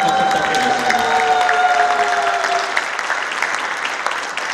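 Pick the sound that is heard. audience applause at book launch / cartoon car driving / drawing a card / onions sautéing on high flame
audience applause at book launch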